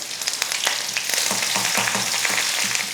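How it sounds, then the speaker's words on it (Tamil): Mustard seeds, small shallots and curry leaves tempering in hot oil for sambar, a loud continuous sizzle with rapid popping and spitting close up, no talking. "தாளிக்கிறதுக்கு எண்ணெய் காஞ்சதுமே கடுகுளுந்து, அடுத்து ஒரு 3 போல் சின்ன வெங்காயம், கொஞ்சம் கருவேப்பிலை."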